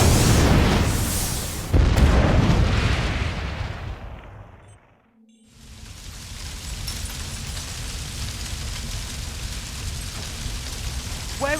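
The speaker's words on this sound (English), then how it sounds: "Are there supposed to be fireworks before the wedding?" Loud booming fireworks burst before the wedding in the Harry Potter and the Deathly Hallows Part 1 video game, heavy blasts crowding the first seconds, a sudden near-silent dip, then a steady rumbling wash with cracks and pops.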